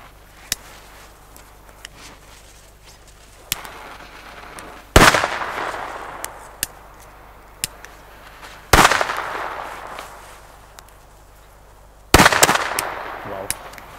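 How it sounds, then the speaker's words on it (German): Pagode-label A-Böller firecrackers go off outdoors in three loud, sharp bangs spaced several seconds apart, each with a short echoing tail, among smaller scattered pops and crackles. "Jetzt dazu passend noch die A-Böller mit Pagode-Label."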